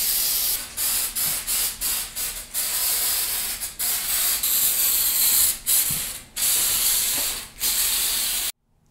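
Repeated bursts of stone coat texture spray paint hiss onto a stainless steel laundry sink, about a dozen short and long sprays broken by brief pauses, close and fairly loud with no talking.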